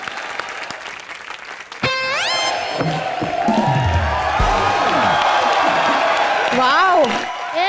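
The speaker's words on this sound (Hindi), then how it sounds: "एक बार जोरदार तालियां हो जाए।" Studio audience at a live Indian comedy show bursts into loud, sustained applause with cheering and whoops, mixed with music stings and voices over the clapping.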